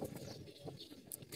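Soft, low cooing from a few pigeons of a fancy breed kept at a loft, repeating in short murmurs over steady background noise with a couple of faint high chirps.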